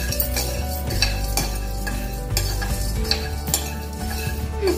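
Lehyam ingredients fry in an iron kadai, a loud sizzle under repeated scraping and clinking of a spoon against the metal pan, close and busy, with no talk.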